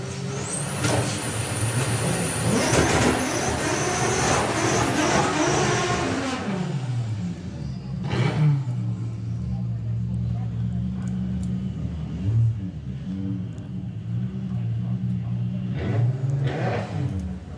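An Audi S3 drag car roars hard off the line at Santa Pod, a loud straining engine for several seconds before fading, followed by quieter engine sounds and a public-address announcer talking over the scene.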